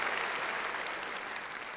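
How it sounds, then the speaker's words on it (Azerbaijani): A concert audience applauds, a dense, even wash of clapping heard from a moderate distance, steady throughout with no talking over it. "alqışlayaq əziz dostlar"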